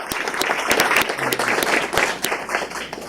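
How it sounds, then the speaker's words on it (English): An audience at a county commissioners meeting applauds volunteers, a moderately sized crowd clapping in a lively, uneven patter with a few sharp individual claps standing out, sustained throughout. "round of applause for"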